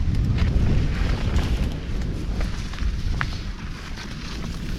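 Strong wind gusting across an exposed mountain spot, a steady loud roar of buffeting air dominating the low end with constant rumbling, no voices heard.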